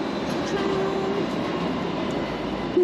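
Steady rumble and hum of a tram in motion in Sydney, heard from inside, with a faint squeal near the end.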